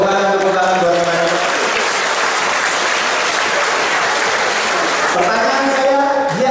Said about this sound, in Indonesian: Tepuk tangan buat teman.